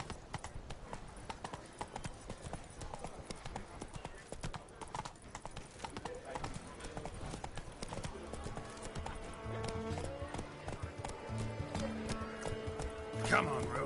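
Roach, a horse in The Witcher 3, gallops with a steady, rapid clip-clop of hooves throughout, joined by game music that swells in the later part.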